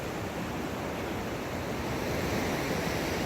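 Ocean surf from the South Pacific rolling steadily onto a very flat beach on New Zealand's east coast, a continuous broad wash of breaking waves heard up close with no pauses and no talking.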